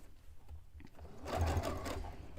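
A sewing machine stitches a large piece of fabric for a cone-shaped cape-dress, giving a close, steady mechanical whirr with a rapid needle chatter that grows louder partway through, with no talking.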